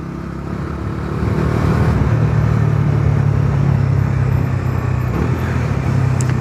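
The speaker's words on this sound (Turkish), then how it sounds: "Bu da bizim meşhur çöp kamyonları." A heavy municipal garbage truck drives past on a street, its steady mid-low engine rumble rising after the first second and holding loud and close, with wind noise over it.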